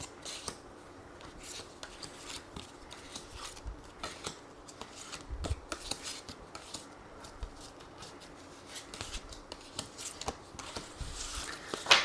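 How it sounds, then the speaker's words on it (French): Tarot cards being shuffled by hand for a reading, a soft continuous rustle of sliding and riffling card stock with small taps, steady and close with no talking. "Alors, on va faire le tirage."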